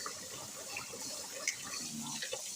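Cool water runs steadily from a tap into a sink to soak vegetables such as cauliflower, a faint, continuous splashing hiss with no talk.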